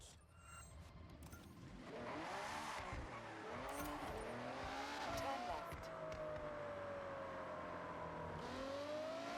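Race car engine in the Forza Horizon racing game, revving loudly and steadily with shifting pitch and tire squeal, continuous throughout while a voice speaks briefly over it.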